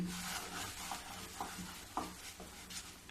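A wooden spatula works through a thick khoa barfi mixture in a pan, giving soft rhythmic scraping strokes roughly every half second over a constant low background hiss, faint and close, with no voices.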